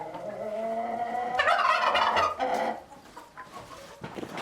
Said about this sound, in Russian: это порода Брама. Он еще молодой такой, осенний петушок еще до конца не созрел